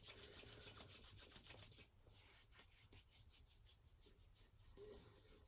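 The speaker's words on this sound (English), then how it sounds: "And rub your hands and do a final self-massage." Hands rub together briskly in a quiet room, a rhythmic dry swishing that runs fast at first, then continues as softer, slower strokes.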